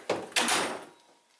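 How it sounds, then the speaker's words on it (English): A metal toolbox drawer slides open and shut with two sharp clacks and a brief rolling rattle, close and loud, fading to quiet afterward. "when you open and close this drawer, it's a lot louder."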